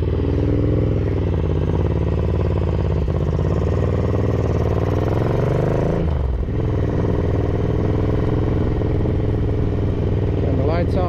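A Ducati 900SS bevel-drive motorcycle engine running on exhaust headers, a steady rough mid-pitched idle close by that dips briefly partway through and then picks back up.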